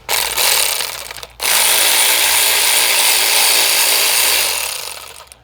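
A ratchet spins out 10 mm bolts from a Buick LeSabre rear window regulator, giving two loud, rapid clicking bursts up close with a brief pause between them.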